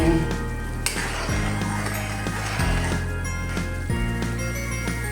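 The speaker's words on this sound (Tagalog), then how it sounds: "Lagyan na po natin yung pong uh, cornstarch slurry mga ka-viewers. Yan. Halo-haloin lang." A cornstarch slurry being stirred into a pan of tambakol (tuna) steak sauce over low heat, with steady sizzling and repeated scraping and clinking of a utensil against the pan at a close, even pace.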